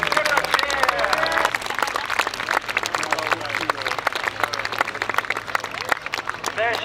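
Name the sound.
airshow crowd cheering and clapping for a Spitfire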